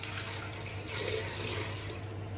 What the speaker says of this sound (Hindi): इसमें ऐड करूँगी पानी।